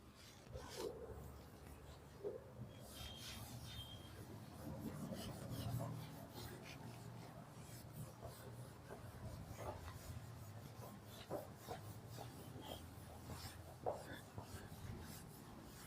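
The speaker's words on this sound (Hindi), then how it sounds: "इसे पहले रब कर देते हैं।" A marker or chalk board being wiped clean in a classroom during a physics lesson on current electricity, a steady dry rasping rub that carries on for several seconds with faint background noise.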